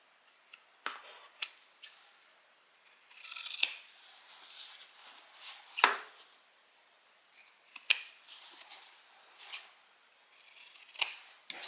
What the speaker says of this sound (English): And then we're going to trim this edge as well.